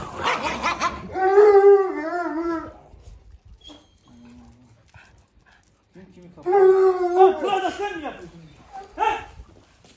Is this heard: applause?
no